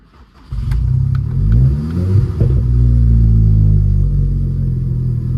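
A Seat Leon FR Mk2 with DSG gearbox cranks and fires up at night, then settles into a steady, close, droning idle with a brief rev flare early on.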